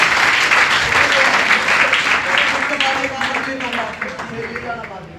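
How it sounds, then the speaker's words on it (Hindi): An audience at a motivational speech applauds loudly. The dense clapping is strongest at first, then gradually thins and fades, with some voices mixed in. "मैं आपका एक बार जोरदार तालियों से दोबारा अभिनंदन करता हूँ।"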